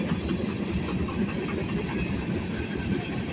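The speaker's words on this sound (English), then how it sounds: "Those are empties. Ballast hoppers." A freight train of empty ballast hopper cars rolls past close by, a steady loud rumble of wheels with clickety-clack over rail joints throughout.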